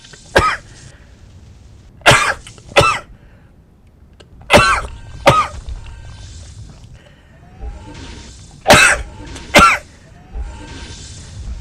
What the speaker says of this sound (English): Yes, those are sneezes, not coughs